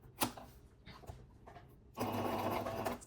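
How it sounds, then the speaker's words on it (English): A sewing machine running a straight 5/8 seam on a New Look 6737 garment, with a few soft clicks and handling noises before a steady, quiet whirring burst of stitching in the final second. "We are going to make one 5/8 straight stitch all the way down to our first dot here."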